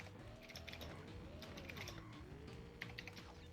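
Mechanical keyboard keys clack in quick, irregular bursts, faint and somewhat distant beneath a quiet background melody, with a few slightly sharper strokes toward the end.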